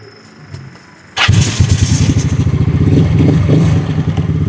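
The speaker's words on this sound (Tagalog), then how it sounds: "So, on natin yung motor, pakita natin." Motorcycle engine cranks and catches after a quiet moment, then settles into a loud, close, chugging idle with a steady pulsing beat.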